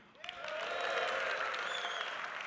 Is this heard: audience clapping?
yes